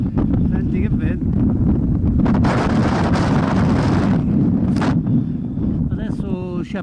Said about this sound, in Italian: Senti che vento.